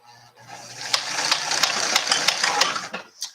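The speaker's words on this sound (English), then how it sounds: "It does about 5 stitches, and then it like clicks into place." A sewing machine runs in a short burst of rapid stitches while making makeup pouches, close and fairly loud, with sharp clicks punctuating the whir before it stops.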